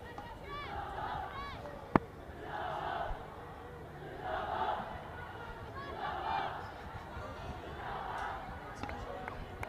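Crowd of kids and women of all ages at a women's T20 cricket international between Pakistan and Ireland in 2022, a steady distant murmur with swelling cheers and shouts rising in waves.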